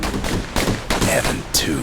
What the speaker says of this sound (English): Know what's better than having a slinger pistol in a fight?